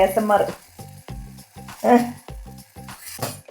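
A cup of urad dal is stirred and dry-roasted in a hot pan for idli podi, producing rhythmic scraping strokes with light sizzling, close and repeated several times a second.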